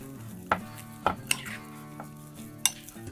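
Barbecue rub being mixed into a jalapeno stuffing filling in a bowl, a few distinct utensil clinks and scrapes against the bowl over a quiet background hum.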